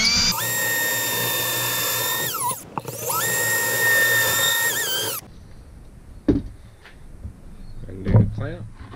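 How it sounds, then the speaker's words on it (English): A power drill boring pocket holes into clamped plywood, with two loud, close whining bursts separated by a brief pause, followed by quieter handling clatter and a bump. "Lock the clamp, and then proceed to drill the holes."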